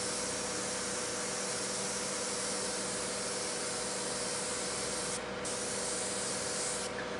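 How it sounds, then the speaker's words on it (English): A steady, unbroken hiss of spray painting runs the whole time, loud and close, with only slight dips in intensity and no voices. "And then we'll start spraying"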